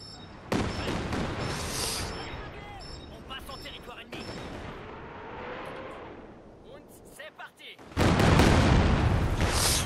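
Katyusha rocket artillery fires in Company of Heroes 2, with a rumbling barrage of launches and blasts, a sharp burst near the start and a heavy roaring salvo at the end, while players talk over it.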